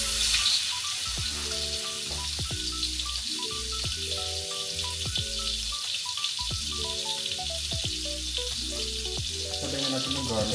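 Butter sizzles in a frying pan while a simple tuyo (dried fish) pasta is being made: a steady, moderately loud crackling hiss that runs throughout beneath background music, with no talking.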